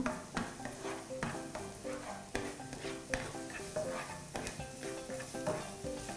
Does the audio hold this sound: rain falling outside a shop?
no